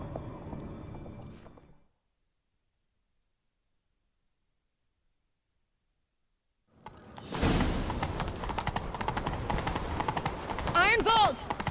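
Hoofbeats of a galloping horse in the video game Witcher 3 pound steadily after a brief burst of sound and a long silence, with whooshing effects and a short whinny near the end.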